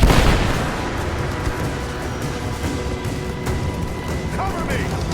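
Heavy gunfire in a Rise of the Tomb Raider firefight, a dense, continuous roar of shots and booms at steady loudness with voices mixed into the battle.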